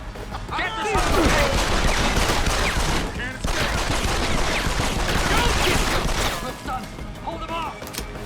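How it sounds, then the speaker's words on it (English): Gunfire in the video game Deus Ex: Human Revolution, dense sustained automatic bursts and crashing impacts, loud and continuous under excited voices. "Fucking gunshots!"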